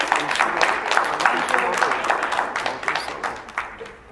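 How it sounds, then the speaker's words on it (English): An audience claps for Katrina at a mental health awareness event, a moderate burst of scattered hand claps that tapers off toward the end, with voices talking over it. "Can we give Katrina a round of applause"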